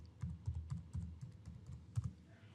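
Quiet keystrokes on a computer keyboard as a password is entered, about a dozen soft irregular taps in quick succession with brief pauses, close and faint.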